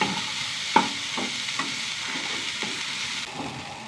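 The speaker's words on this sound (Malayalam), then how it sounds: "വെണ്ടയ്ക്കാണ് ഉപ്പേരി. നല്ലോണം വാടി വരട്ടെ." Okra upperi, a stir-fry, sizzles steadily in a pan while a utensil scrapes through it every half second or so, with one sharper clink near the start.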